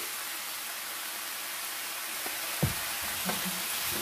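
Vegetables and meat sauté in a pan, a steady broadband sizzle running throughout with a few soft stirring clicks near the end, no voices.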